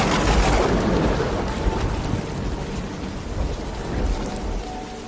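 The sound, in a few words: thunder and rain sound effect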